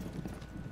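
Horse hooves clip-clopping in the tactical shooter Rainbow Six Siege, a short steady run of soft, fairly quiet hoof beats heard alone.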